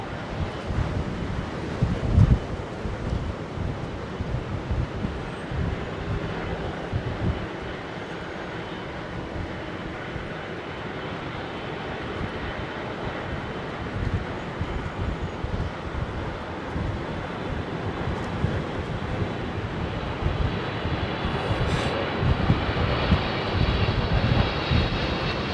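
A Boeing 777 on a blustery approach to Heathrow, its engine roar steady and broadband throughout, mixed with heavy gusting wind buffeting the microphone.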